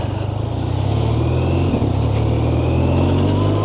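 A BMW R12 GS motorcycle pulls away on the road using its quick shifter, with a steady, loud engine drone running close up throughout and smooth, seamless rises in pitch as it accelerates.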